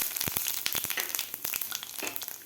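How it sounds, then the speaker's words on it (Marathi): Cumin seeds and peanuts crackle and sputter in hot oil in a pan, a close, busy run of sharp pops and sizzles with an irregular rhythm, no voices. "तेल आपलं गरम झालेलं आहे यामध्ये घालायचे आपल्याला जिरे थोडेसे शेंगदाणे घालायचे आपल्याला"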